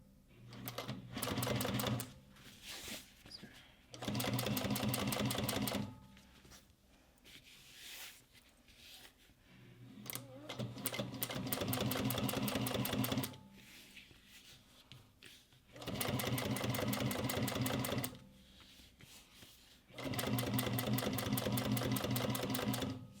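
A heavy-duty sewing machine stitches a two-toned leather boxy bag in five bursts of rapid, even needle chatter separated by short quiet pauses, up close with no talking.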